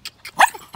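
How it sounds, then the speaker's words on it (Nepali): A small dog gives a few quick, close barks in under a second, short sharp yaps separated by brief gaps. "मलाई अहिले फेरि पनि भुकिरहेको छ"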